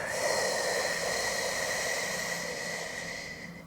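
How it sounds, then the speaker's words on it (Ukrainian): A long, deep breath drawn in and slowly exhaled during a relaxation exercise for chest tension, steady and close with a soft airy hiss that fades slightly toward the end, with no talking. "Вдих протяжний. Надуваємо живіт і видих."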